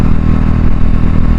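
A Husqvarna 701 motorcycle engine drones steadily while riding on the road, loud, close and rumbling with wind buffeting and no speech.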